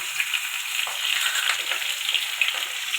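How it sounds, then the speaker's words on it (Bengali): Potatoes frying in oil in a kadai (wok), added after the pan was emptied, give a steady bright sizzle with crackling pops throughout, close by and with no talking. "আলুটা ভাজবো"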